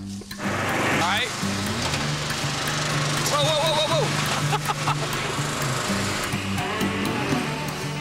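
A riding lawn mower engine drones loud and steady throughout, close by, with a person shouting excitedly over the running engine.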